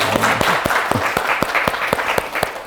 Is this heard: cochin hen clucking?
no